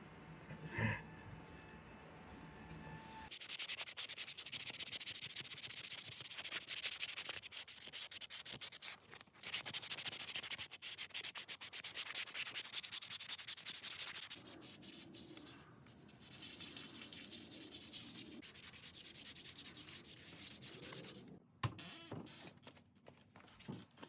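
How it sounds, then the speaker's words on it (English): A power sander grinds against wood in long, steady rasping passes, with brief pauses and shifts in pitch as the pressure changes; no one speaks. "More sanding, more sanding, more sanding. Using every type of sander that I have to do this."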